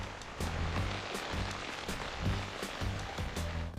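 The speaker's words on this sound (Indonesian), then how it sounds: "semuanya jadi kacau karena hujan, padahal ramalan cuaca tidak memprediksikannya" Rain pattering steadily on plastic sheeting stretched over a homemade swimming pool and bath tub under construction, a dense even hiss with soft repeated low thumps, close and continuous with no voices.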